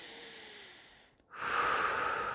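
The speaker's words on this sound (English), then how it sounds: "I want to take a few deep breaths" A deep breath in and out, close and clear: a long slow exhale fading away, a brief pause, then a stronger, rushing inhale.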